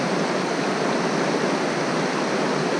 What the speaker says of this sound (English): Finally got to the river.